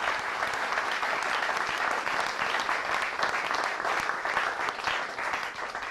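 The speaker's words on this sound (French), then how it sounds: "Je cru que vous allez acclamer" A congregation at a French-language church gathering breaks into applause, dense continuous clapping filling the room for several seconds at an even, loud level with no talking over it.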